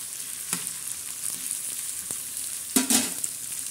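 Curry leaves and tomato hitting hot oil in a tempering for tawa-fried bitter gourd slices, a steady soft sizzle with a couple of sharp crackling bursts as ingredients drop in.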